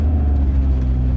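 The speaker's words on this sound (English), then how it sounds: "They really do roar. It's got a super sprint exhaust." A BMW E46 M3 fitted with a Supersprint exhaust lets out a brief, loud, deep engine rumble, close and thick in the low end, with no talking over it.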